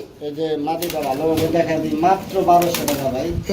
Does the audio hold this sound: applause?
no